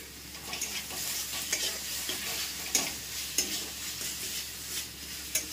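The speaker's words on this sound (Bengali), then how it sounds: "দিয়ে ভালো করে মশলাটা এবার আমি কষতে থাকবো" Spice masala and chopped tomatoes are sautéed in a pan over a medium flame, with a steady sizzle under repeated scraping strokes of a spoon, close and continuous, with no voices.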